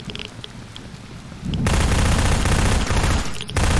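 Heavy-recoil gunfire in the video game ZERO Sievert: after a quieter stretch, a loud, dense burst of rapid automatic shots hammers in and continues almost without pause to the end.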